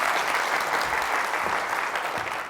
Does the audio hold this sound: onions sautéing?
no